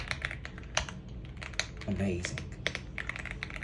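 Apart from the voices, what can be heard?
typing on AULA F75 mechanical keyboard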